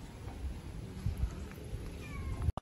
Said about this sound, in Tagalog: Yan ang mga pusa ni Madam.